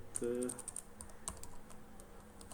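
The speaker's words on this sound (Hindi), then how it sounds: "अभी हम एक नाम लिखते हैं, रोहित सिंह" Soft, scattered keystrokes on a computer keyboard as a name is typed into a web registration form, faint and sparse with a brief voice at the start.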